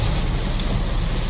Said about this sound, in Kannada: ಫುಲ್ಲು ಮಳೆ ಸ್ಟಾರ್ಟ್ ಆಗೋಗಿದೆ